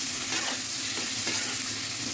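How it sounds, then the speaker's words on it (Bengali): Marinated prawns frying in hot oil in a pan make a loud, continuous close-up sizzle and crackle that holds steady throughout, with no voices. "মেখে রেখেছিলাম চিংড়ি মাছ, মাছটা আগে ভেজে নিই।"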